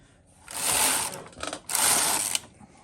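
Carriage of an HK-160 knitting machine swept across the needle bed in two smooth passes, a loud rushing mechanical rattle, with a short pause between them and quiet at either end.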